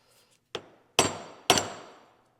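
Three sharp metallic taps of a Phillips screwdriver against a stuck grease fitting on speed binders, the first lighter and the last two loud and ringing, spaced about half a second apart.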